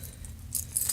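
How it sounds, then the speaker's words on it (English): Metal keys from a summer everyday-carry pocket dump jingle and clink briefly, a few small close rattles that build toward the end of a quiet second. "Keys."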